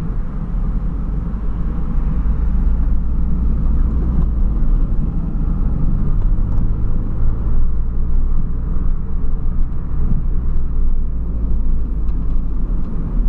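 Ford Ka, a light small car, running with a steady low engine rumble that stays close and constant throughout, with no talk over it.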